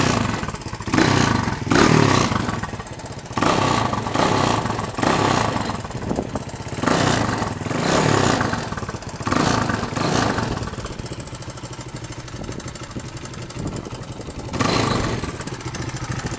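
A 1983 Honda XR250 dirt bike, a fairly quiet-running motorcycle, revs up repeatedly from idle in loud, close bursts of roughly a second each, dropping back to a steady idle between throttle blips, with no talking.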